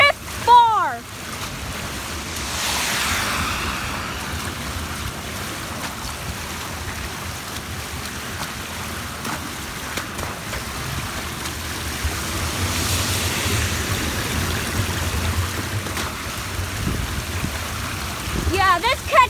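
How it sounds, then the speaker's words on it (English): Floodwater rushes steadily into an overflowing catch basin in British Columbia, a loud continuous roar of churning water with surging swells, and people talk briefly over it. "this catch basin is about to overflow"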